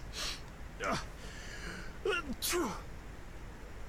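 A character in the video game The Witcher sneezes loudly twice in quick succession, close and clear over a low ambient game background.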